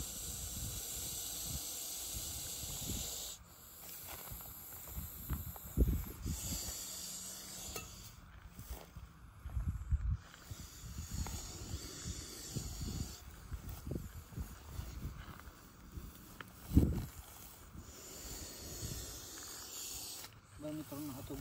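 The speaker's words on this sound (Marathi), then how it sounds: "ज्यावेळेस तो साप आवाज काढत असतो ना" A Russell's viper hisses in long breathy bursts, a close, rough, airy rush that swells and fades repeatedly, with occasional thumps and faint background noise between the hisses.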